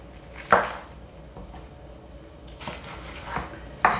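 Bok choy stems being chopped on a cutting board in a home kitchen, a few sharp, separate knife knocks spaced out over a few seconds, close and clear with no talking.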